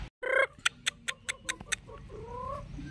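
A large Brahma chicken with feathered feet gives one squawk, then a quick run of sharp, separate clucks. The calls are close and fairly quiet against a still background.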